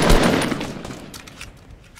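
Sniper rifle gunfire in Fortnite: a loud shot and its echoing tail open the clip, followed by a few fainter, scattered distant reports.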